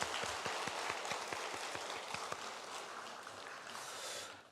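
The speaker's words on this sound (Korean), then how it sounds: "우리 서로를 박수로 축복하도록 하겠습니다." Church congregation clapping during a Sunday worship service, a dense fairly faint patter of many hands that holds steady and then dies away.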